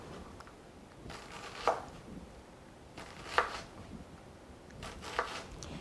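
An onion diced with a kitchen knife on a board makes three separate crisp chopping strokes about two seconds apart, with quiet room noise between them.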